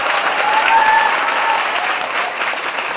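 Church congregation applauding during a certificate ceremony for a new member, brisk continuous clapping with a brief whistle-like tone in the middle.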